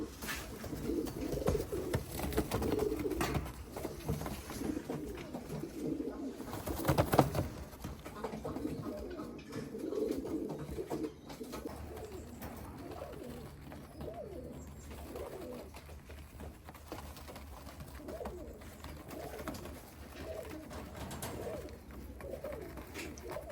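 Several male Modena pigeons coo steadily in soft, overlapping rounds, close by and continuous, with a few brief louder bursts and faint background hiss.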